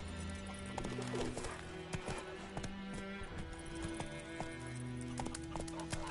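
Roach, a horse in The Witcher 3: Wild Hunt, trots along with steady hoof clip-clops, birds cooing in the background and faint snorts, quiet overall.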